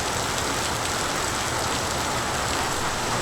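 Heavy pre-monsoon rain pours down in the Konkan region, a dense, steady hiss of falling water that stays loud and even throughout with no voices.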